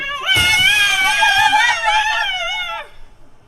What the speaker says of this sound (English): It was a cat. I guess I stepped on its tail.